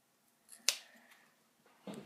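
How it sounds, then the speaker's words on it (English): Scissors snip through the cornea of a cow eye during a dissection, one sharp close cut followed by a softer second snip, with quiet handling in between. "And now we're going to cut off the cornea."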